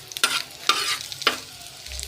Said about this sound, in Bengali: সুন্দর করে ভেজে নিয়ে এটা ভাজার পরে ভর্তাটা আমি মাখাবো